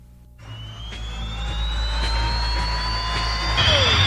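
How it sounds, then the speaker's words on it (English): A jet-engine funny car at the drag strip, its converted army-surplus aircraft turbine roaring loud and steady with a rising whine that builds and swells over several seconds. "that's the sound of a jet funny car"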